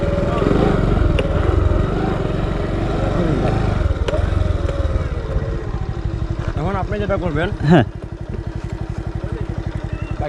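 A motorcycle engine putters and idles nearby with a rapid steady thump, briefly revving near the end, while people talk over it during a solo moto camping trip to Khadimnagar National Park.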